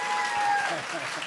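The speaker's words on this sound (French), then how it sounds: "Mesdames et messieurs, on applaudit très fort." A studio audience at a French-language television song show applauds loudly and steadily, a dense wash of clapping with voices mixed in.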